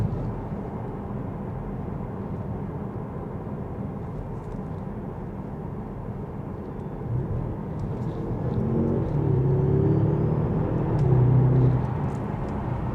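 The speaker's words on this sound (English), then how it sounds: "So right now I can hear a lot of road noise from the tires" Tire road noise heard from inside a moving car, a steady low rumble that swells louder for stretches, with no speech over it.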